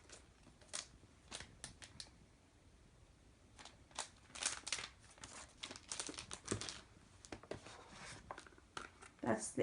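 A 15-inch 2015 MacBook Pro Retina i7 is slid out of its protective cover, giving irregular close crinkling, rustling and handling scrapes with a brief louder burst near the end, while a person talks over it.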